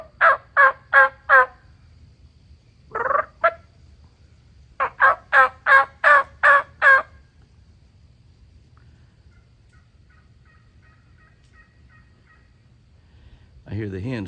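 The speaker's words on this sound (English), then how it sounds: "Those two long beards are in full strut here in the middle of November. They're gobbling." Wild turkey long beards in full strut in November gobbling: two bursts of rapid rattling gobbles, a short call between them, clear against quiet background, with a brief low noise at the end.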